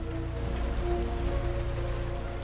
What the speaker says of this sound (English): The rain had picked up again.